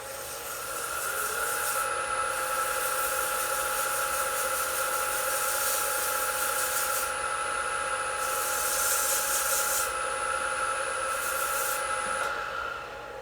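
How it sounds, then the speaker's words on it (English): Wood surface being sanded, a steady, continuous abrasive rasp with bright hiss and a constant underlying tone, lasting about twelve seconds before stopping abruptly, close to the microphone with no talking. "take one area and sand it longer, between 30 seconds and a minute, 2 minutes"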